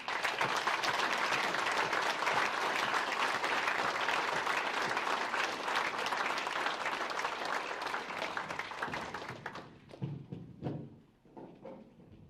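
An audience at a team kickoff event applauds a departing coach with loud, dense clapping that holds for about nine seconds, then thins out into a few scattered claps and room noise.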